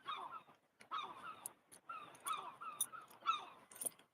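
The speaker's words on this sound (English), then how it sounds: "The seagulls are talking" Seagulls calling near a church, a run of squawking, chattering cries in repeated bursts with short pauses, moderately close and fairly loud, with no talking.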